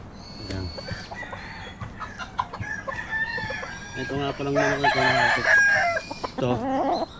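A fighting rooster crows nearby on a farm, a long strained call rising and falling, with clucking and a faint voice in the background.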